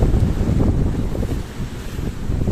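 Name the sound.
large ocean waves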